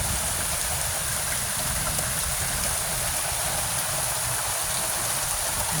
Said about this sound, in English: That's the water coming out of the rain gutter.